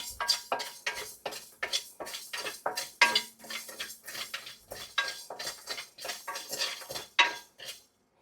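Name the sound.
dry-roasting coriander, fenugreek and cumin seeds in a pan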